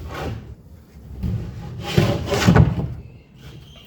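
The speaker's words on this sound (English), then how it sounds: "got a bandsaw to cut the bits of wood up now." A bandsaw cuts pieces of plywood during a boat restoration, giving a close, low rubbing drone with a few louder swells as the blade works through the wood, without speech.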